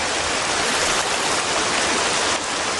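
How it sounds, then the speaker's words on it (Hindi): Steady, heavy rain pours down in a dense, even hiss that stays loud and constant throughout, with no voices. "ये बारिश कहाँ से आ गई?"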